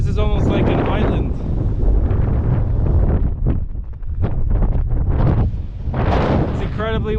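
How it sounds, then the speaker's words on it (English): Strong gusty wind roars across the microphone at a cinder cone in Craters of the Moon National Monument, Idaho, in heavy buffeting bursts, loud and continuous, with brief faint voices breaking through. "It's incredibly windy."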